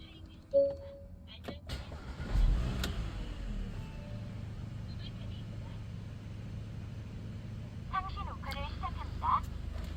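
A Porsche Macan gasoline SUV engine turns over with a short burst, then settles into a low, faint idle hum beneath a person talking.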